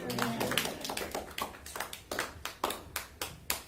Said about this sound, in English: Let's give God a mighty clap offering.